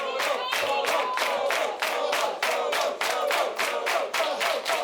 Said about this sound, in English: Crowd loving this one.